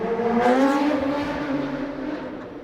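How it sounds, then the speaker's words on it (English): A motorcycle rides past on a city street by a church and statue, its engine note swelling loud and rising in pitch, then fading over a couple of seconds. "That might have been Mark riding by on his motorcycle."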